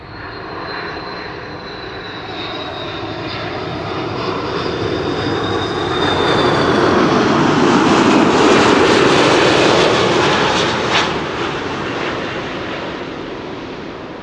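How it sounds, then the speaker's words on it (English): A Delta Airlines A330-300 lands and applies its thrust reversers, a loud jet roar that swells to a rushing peak midway and then eases off, with no talking. "That's reversers being applied"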